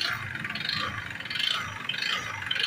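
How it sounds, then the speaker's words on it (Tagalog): A Honda PCX 160 scooter engine idles with a faint, rhythmic whirring chop, helicopter-like and pulsing, from a noisy crankshaft, heard steadily at low level. "Narinig niyo naman ang ingay ng andar, tunog helicopter."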